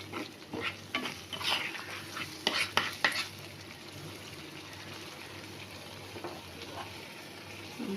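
Prawns going into a yogurt masala over low heat, followed by stirring. Utensil clatter and scraping come first, then a steady, softer sizzle continues alone.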